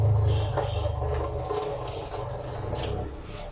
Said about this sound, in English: Now I will rinse my hands thoroughly, starting to the fingertips down to elbow.